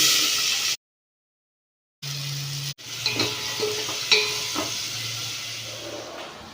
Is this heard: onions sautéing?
yes